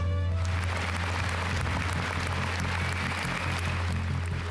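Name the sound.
applause for Ukraine basketball team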